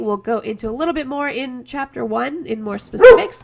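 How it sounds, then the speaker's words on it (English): A dog barks loudly and close by during a recorded lecture, with a sharp yelp near the end over continuous speech from someone talking. "Sorry, that's my dog."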